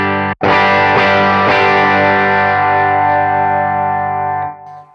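A single guitar chord rings out on a clean channel-one tone from a Tyler HM30 amp patch on a Line 6 Helix, struck once after a short gap and left to sustain loudly and evenly before decaying after about four seconds.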